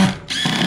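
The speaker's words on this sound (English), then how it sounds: "Now you grab your drill" A power drill whirs loudly up close while driving screws into a board, with a short dip in the motor sound before it spins back up.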